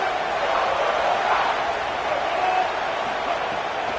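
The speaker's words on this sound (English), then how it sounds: "Listen to this crowd just shaking the girders of this place, trying to help their defense." Stadium crowd in a college football video game roaring steadily to back its defense, a dense, continuous wash of cheering at constant loudness with no breaks.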